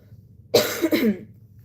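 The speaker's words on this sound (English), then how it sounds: "I don't know what's on my throat for me to be coughing that out." A single close, throaty cough bursts out in two quick pulses, then stops.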